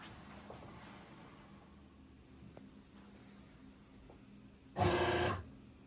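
A Maytag belt-driven washing machine with a loose pulley and belt lets out a brief, loud grinding burst as its cycle starts, rising out of a quiet room hum and cutting off about a second later.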